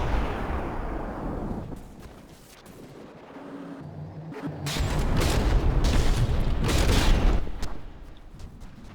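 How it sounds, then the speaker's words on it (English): In a naval battle video game, a major explosion tears through the Blazing Emperor warship, heard as deep booming blasts that swell in the second half, with cracking bursts over a heavy rumble. "something major exploded on Blazing Emperor"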